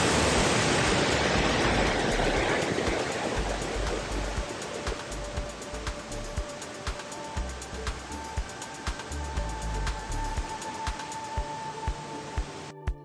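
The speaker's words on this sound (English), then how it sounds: "We walked to a nearby waterfall." Waterfall in Iceland's Rift Valley, a broad roaring rush of falling water, loudest at first and easing slightly, with faint intermittent clicks and rustles on top; no talk.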